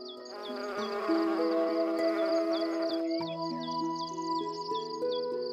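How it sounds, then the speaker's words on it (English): Bees swarm through blooming almond trees, a steady layered buzz of many insects droning close by, with overlapping tones shifting throughout and no voices. "swarms of bees are busy collecting pollen and nectar."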